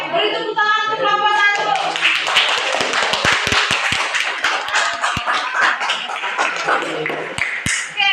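Students in a ninth-grade classroom at a junior secondary school applaud a group, a dense patter of many hands with sharp taps, following a brief tonal sound at the start.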